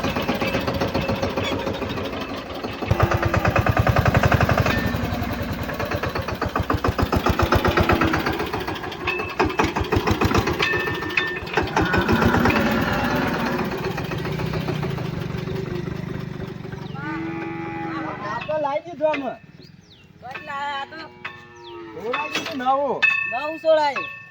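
A tractor's diesel engine runs loudly up close with a steady knocking rumble, then fades into the background as voices take over near the end.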